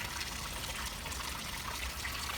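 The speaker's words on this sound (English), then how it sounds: "I got my water running." Steady water trickling and splashing as a hose fills an 18-foot Coleman above-ground pool, a continuous close wash of running water with no talk.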